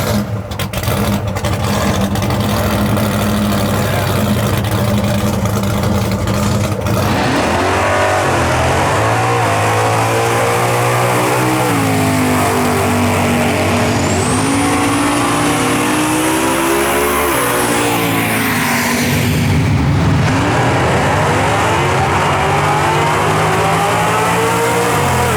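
The drag race car Blasphemi roars at Drag Week 2022 test and tune with its throttle stuck wide open, a loud, sustained engine howl whose pitch climbs and wavers over about twenty-five seconds, close and dominant.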